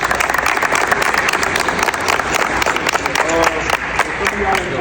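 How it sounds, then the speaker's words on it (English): A crowd of high school football players applauds and cheers itself during a championship team gathering, continuous close clapping with voices mixed in throughout. "Y'all clap it up for y'all."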